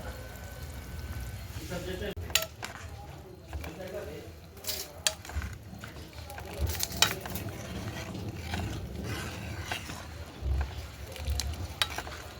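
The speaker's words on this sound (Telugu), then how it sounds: "బెండకాయ పులుసు కూడా ఉడుకుతుంది" A pot of okra stew bubbles and sizzles steadily on the stove, with occasional clinks of a utensil stirring and a voice talking over it.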